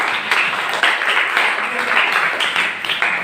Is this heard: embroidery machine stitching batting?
no